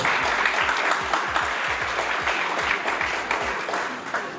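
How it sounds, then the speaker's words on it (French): An audience at a public ceremony in Côte d'Ivoire's Gôh-Djiboua district applauds a woman called to the lectern, a steady wash of many hands clapping throughout, fairly close and full, with no clear voices. "Vous pouvez applaudir pour elle"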